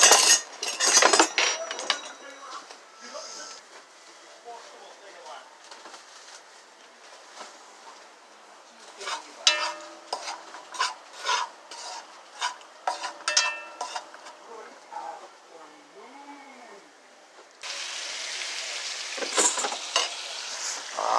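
Oxtail frying with sugar in a pot while a big spoon stirs and scrapes it, a hissing sizzle under clinking metal strokes that come in bursts, with a louder burst of frying near the end.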